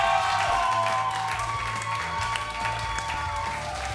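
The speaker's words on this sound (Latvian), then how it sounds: "Aplausus!" An audience applauds on a karaoke TV show, a sustained wash of clapping with a few cheers, steady and fairly loud, while a faint tonal background of music or hum runs underneath.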